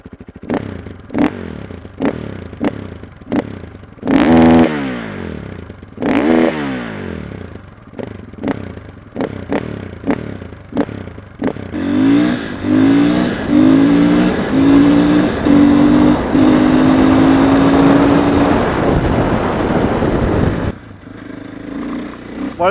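KTM 500 EXC-F supermoto single-cylinder engine blipped in a series of sharp throttle revs, then held at a long rising high rev before dropping back to a rough idle, loud and close with no talk.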